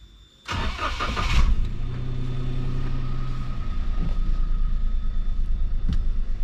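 A manual 1000 cc car engine cranks with a short burst of starter whirring, then catches and settles into a steady, even idle, loud and close with no talking.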